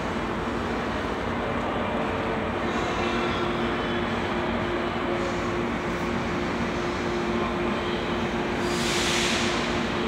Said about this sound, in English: Oh, the train's getting ready